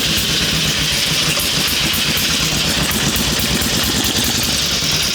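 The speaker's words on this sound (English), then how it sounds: "let's fire this thing up and see how she does" An Elk motorcycle engine idles steadily after firing up, a loud, continuous, even mechanical throb with a rough pulsing texture throughout and no voices.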